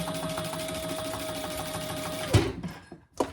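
A sewing machine runs in one steady continuous burst, stitching just inside the connector seam of a handbag, then stops abruptly and is followed by a few brief handling clicks.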